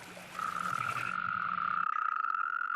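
Frogs and toads croak in the Iberian wild, a loud sustained trilling call close by over a low rhythmic croaking that stops partway through.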